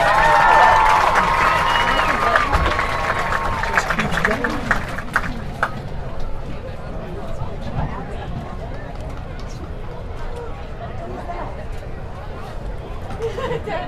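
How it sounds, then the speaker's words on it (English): A crowd at an Upperman High School football senior night cheers and applauds for the football cheerleaders, a dense wash of clapping and shouts that is loudest at the start and slowly fades. "Please give a round of applause to your Upperman football cheerleaders."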